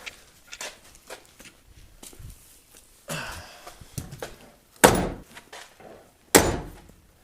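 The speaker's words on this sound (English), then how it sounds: "Doors closed super nice." Car door on a 1972 Datsun 240Z under restoration shutting firmly; two solid thunks, preceded by quieter handling noises and small clicks, close by.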